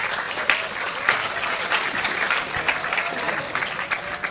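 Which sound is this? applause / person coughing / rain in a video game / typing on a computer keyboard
applause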